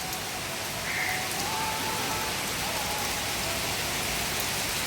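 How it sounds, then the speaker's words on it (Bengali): Heavy monsoon rain pours down, a loud, dense and unbroken hiss of drops on surfaces that stays level the whole time with no voices. "প্রচুর বৃষ্টি হচ্ছে,"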